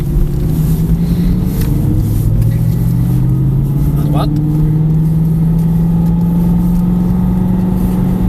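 A car engine accelerates during a driving lesson, its droning note climbing steadily in pitch as the revs build, loud and close.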